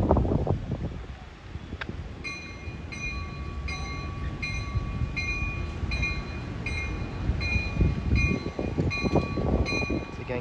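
An Amtrak Capitol Corridor passenger train rumbles past steadily at Martinez, California, with wind noise, while a bell-like crossing signal dings in an even rhythm above the roar.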